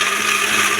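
A kitchen mixer grinder whirs at full speed, blending coconut and peanut chutney with tamarind, salt and chilli. The sound is a loud, steady, close grinding drone that runs without a break for under a second.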